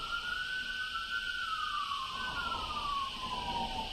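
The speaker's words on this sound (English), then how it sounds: "you can hear from my end, I would imagine, the sirens" A distant emergency siren wails in long rising and falling sweeps over steady background traffic hum, with no talking.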